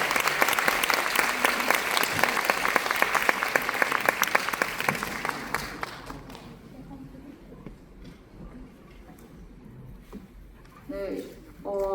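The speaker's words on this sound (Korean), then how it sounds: "큰 박수로 환영해 주세요." Audience claps to welcome guests at a film event, loud dense applause for about five seconds that fades into quiet room noise, with a voice starting to speak near the end.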